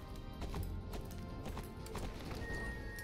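A horse gallops fast in the Star Stable video game, its hoofbeats a quick, steady clip-clop rhythm over a dense background bed, moderately quiet overall.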